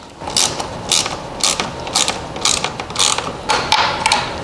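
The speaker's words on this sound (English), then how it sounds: "I might have to use my little ratchet." Small hand ratchet turning a screw on a BMW R1300GS motorcycle, a close, rapid series of clicking pawl bursts repeating in quick rhythmic strokes.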